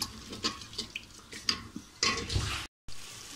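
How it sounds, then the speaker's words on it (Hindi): Water poured into a bowl of ground spice mixture of chili, cumin and salt in a home kitchen, heard as close splashing and trickling bursts with brief pauses and a short dropout. "ये पानी डाल दिया इसके अंदर मैंने"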